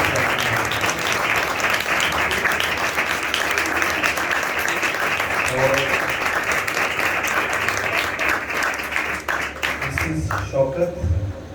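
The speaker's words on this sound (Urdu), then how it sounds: "اور ہم ان کا زوردار تالیاں" An audience at a church prayer gathering in Gojra claps loudly and continuously in dense, sustained applause that fades toward the end, with voices over it.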